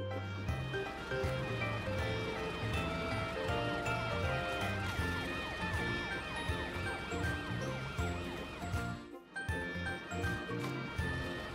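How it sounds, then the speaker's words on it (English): A cartoon ambulance siren wails over a bright, jingling music track, staying steady and fairly loud throughout, with a short dip near the end. "Matt went to ask Amber the ambulance to come and help"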